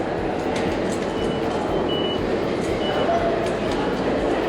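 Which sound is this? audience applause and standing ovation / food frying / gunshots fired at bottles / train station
train station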